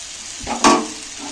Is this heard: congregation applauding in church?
no